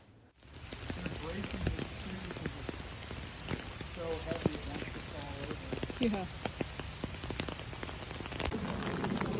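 Rain falls steadily at an outdoor zoo, a dense patter of drops on surfaces with sharp ticks and splashes building louder toward the end, and a brief spoken word.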